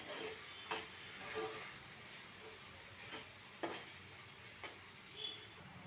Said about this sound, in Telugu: ఈ కార్న్ కూడా యాడ్ చేసుకుని మనం మిక్స్ చేసుకుందాం